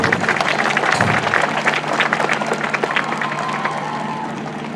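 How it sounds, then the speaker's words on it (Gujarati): Applause from the crowd at an Independence Day police dog show in Tapi district: dense, steady clapping that fills the whole stretch at close range, easing only slightly toward the end, with a few voices mixed in. "તાળીઓના ગગડાટની સાથે"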